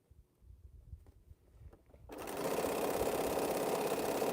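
A sewing machine starts up after a stretch of quiet handling and runs in a steady, continuous whir while stitching quilt pieces at a relaxed pace.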